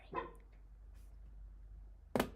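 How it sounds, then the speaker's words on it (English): A female dog barks outdoors, faint and muffled indoors, with one soft bark early on, a steady low hum of room noise, and a sharper, louder bark near the end. "Let me let the dog in, she's barking."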